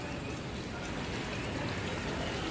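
Steady rain falls outdoors at a wedding decoration setup, a dense, even hiss of drops pouring without pause and no voices.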